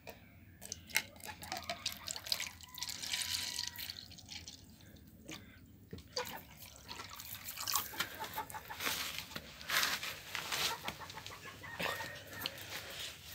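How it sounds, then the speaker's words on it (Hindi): Aseel chickens on a rooftop cluck softly and intermittently while drinking, among scattered dripping water sounds, with a rooster faintly crowing; fairly quiet overall and no speech. "सुबह सुबह मुर्गा मुर्गी पानी खा रहे"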